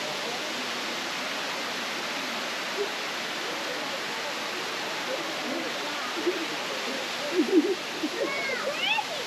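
Steady rushing roar of Chinna Suruli Falls in Theni, Tamil Nadu, running with high water flow, loud and continuous, with a few faint splashes or voices near the end.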